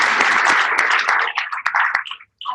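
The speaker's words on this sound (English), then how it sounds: "Give her another round of applause." Short, loud applause for a presenter at a wellness product talk, a dense wash of clapping that breaks into a few scattered claps before stopping, with a brief sound after a pause.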